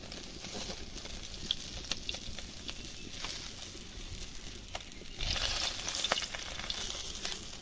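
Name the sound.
cumin and dried chilli sizzling in oil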